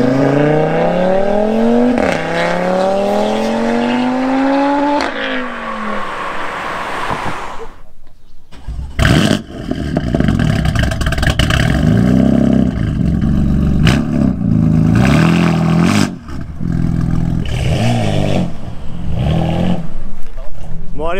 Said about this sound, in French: La RS3 de Tech Auto qui s'en va, c'est un vrai démon.